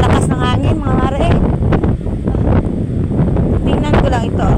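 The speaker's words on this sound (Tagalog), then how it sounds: "Oh, sobrang lakas ng hangin mga mare." Strong wind of the amihan monsoon buffets the microphone in heavy gusts on a coastline with big waves, with a voice speaking over the rushing noise.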